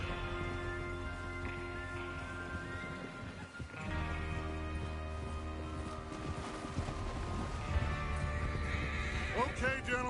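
A horse whinnies loudly near the end in Red Dead Redemption 2, with clip-clopping hooves and a steady musical backdrop throughout.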